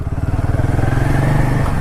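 Royal Enfield Himalayan 450 motorcycle on the road, a loud, close, steady thumping engine pulse with rising pitch as it rides along.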